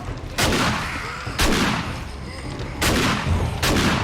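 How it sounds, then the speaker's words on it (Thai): A shotgun fires in the survival game 7 Days to Die: four loud, close booming blasts, each trailing off into a rumbling decay, spaced about a second apart. "ปืนแรงมากเลยค่ะ เห็นไหมคะ ปืนลูกซองค่ะ"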